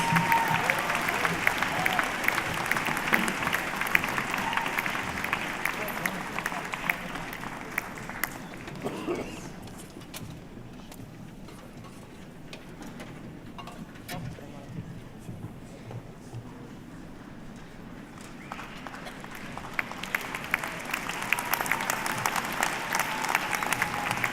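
A graduation ceremony audience applauds at length in a large hall. Dense clapping opens the clip, dies down to quieter scattered claps and murmuring in the middle, then swells again near the end.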